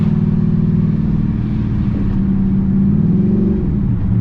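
A six-speed manual car engine droning loud and close, rpm holding then shifting slightly as the driver moves into fourth gear, a steady low hum throughout.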